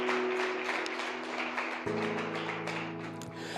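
A church congregation claps for Jesus during an evening service led by Pastor Wesley Marques, with scattered hand claps rising over sustained keyboard chords that keep playing underneath.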